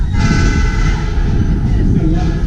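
A New Hope Ivyland Railroad train crosses Street Road near Lahaska, with a steady, loud rumble of rolling cars close by and faint voices murmuring underneath.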